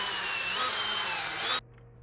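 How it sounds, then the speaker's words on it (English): A power drill bores small sixteenth-inch holes through a broken snowmobile brake part, a steady high whine lasting about a second and a half before stopping abruptly into near silence. "I'm going to start by drilling some 16th inch holes"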